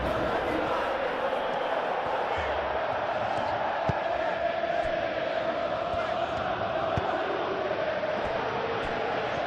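Stadium crowd noise from the football video game PES 21 during an Atletico Madrid versus Barcelona Copa del Rey match, a steady, dense roar of massed voices with occasional swells, continuous throughout.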